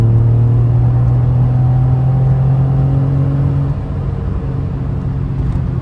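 An Alfa Romeo 155 engine hums steadily at a low pitch while driving, then eases off partway through; no voices, just the continuous motor drone.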